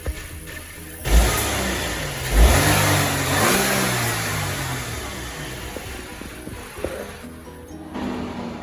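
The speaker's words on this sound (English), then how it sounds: "let's see how the engine is" A 2020 Audi Q5 engine revving from idle: two sharp throttle blips rise and fall, then a longer rev climbs and settles back to a steady idle, loud and close with no talking.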